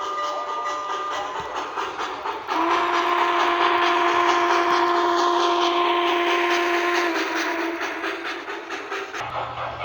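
A model steam locomotive whistle, MTH model of a Southern Pacific GS-class engine, blows a long sustained chord over the rumble of a passing train, steady and loud before cutting off near the end.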